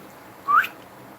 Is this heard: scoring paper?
no